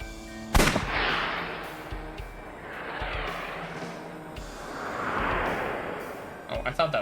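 A gunshot goes off in the video game AI: The Somnium Files, one sharp crack near the start followed by swelling game music and another cluster of hits at the end, with talk heard.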